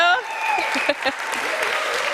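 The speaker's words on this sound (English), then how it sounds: "Did anybody not clap for my husband and my amazing husband, Mike?" Audience applause at a political event, a steady wash of clapping lasting about two seconds, heard beneath a voice as she speaks.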